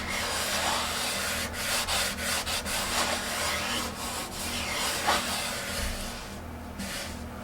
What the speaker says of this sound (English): So I'll just kind of keep putting the oil on it.